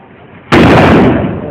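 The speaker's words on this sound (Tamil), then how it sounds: "வெடி வைக்கிறீங்க." A single loud firecracker bang bursts suddenly during the rainy season, followed by a harsh roaring blast that fades slowly.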